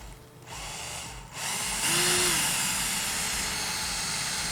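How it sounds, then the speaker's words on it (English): A center drill bores a pilot hole during a Hotshot 1200 argon kit upgrade, a power drill whining steadily and close, rising in pitch and holding as the bit cuts, with no talking. "I'm going to drill a pilot hole first."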